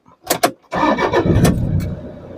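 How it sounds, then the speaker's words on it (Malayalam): A Toyota Innova diesel engine, just after a diesel filter change, starts up close by. Two short starter-motor bursts are followed by the engine catching with a loud roar that settles into a steady idle. "ഇനി ഒന്ന് വണ്ടി ഒന്ന് സ്റ്റാർട്ട് ചെയ്ത് നോക്കാം"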